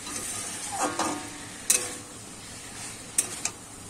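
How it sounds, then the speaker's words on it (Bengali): Food frying in a pan being stirred, soft sizzling under a few scrapes and sharp clicks of a utensil against the pan, close and moderately loud. "এইবারে একটু আমি কিন্তু এইভাবে নেড়ে চেড়ে কিন্তু রান্না করে নেব।"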